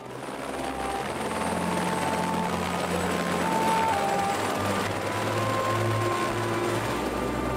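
Steady, loud rotor and engine drone of a helicopter on a late-season supply flight in the Swiss National Park, holding constant throughout with no talk.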